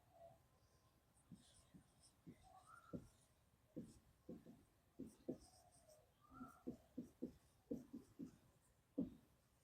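Chalk or marker writing out an example on a board in an English lesson: a steady series of short, scratchy strokes and taps, close and fairly quiet, with no talking.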